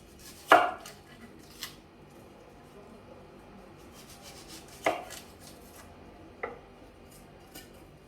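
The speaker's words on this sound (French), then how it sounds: "Je vais découper mes oignons." Onions being cut with a knife on a board for boeuf bourguignon, a few sparse sharp knocks spread apart against quiet kitchen background.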